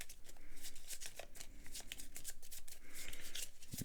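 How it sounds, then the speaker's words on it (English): A small deck of eleven playing cards is shuffled by hand at a tabletop solo game, giving quick, close, crisp riffling flutters that repeat rhythmically throughout. "So we shuffle it up."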